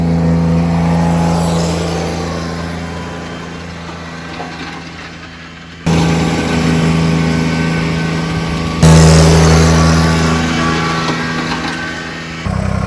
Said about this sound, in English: the tractor is working really hard